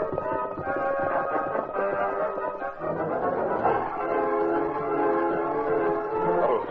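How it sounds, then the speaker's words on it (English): A train rumbles and labors up a hill with a steady mechanical drone, its horn sounding in sustained tones over the chugging. "heard the sounds of the train climbing Backbreak Hill"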